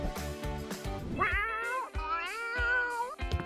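Cats meow close by near a homemade cat tree built from jute and a toilet paper roll, giving a few drawn-out, rising and falling calls in quick succession.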